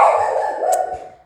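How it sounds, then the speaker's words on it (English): One indoor dog gives a single drawn-out, howling bark, close and loud, that fades away within about a second. "sorry for my dog."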